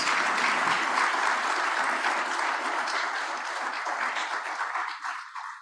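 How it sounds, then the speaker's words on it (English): Sustained applause from a residential webinar audience for its presenters, dense clapping that holds steady and then thins and fades toward the end. "can we get a round of applause for all presenters, please?"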